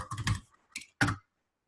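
Quick bursts of typing on a computer keyboard, three short clusters of key clicks close up with brief gaps between them, no voices.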